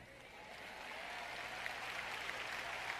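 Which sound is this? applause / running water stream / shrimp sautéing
applause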